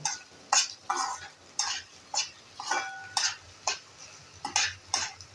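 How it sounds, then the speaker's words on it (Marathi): Wheat dalia being stirred while it roasts in a steel kadai, heard as a steady series of sharp metallic scrapes and clinks about every half second, close and clear with no talk. "हा गव्हाचा रवा किंवा दलिया हे जे भाजत आलं"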